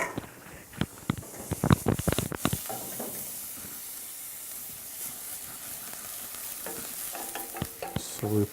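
Food sizzles and hisses steadily in a hot pan while a utensil stirs it, with a burst of sharp scraping and clattering strokes near the start and more toward the end.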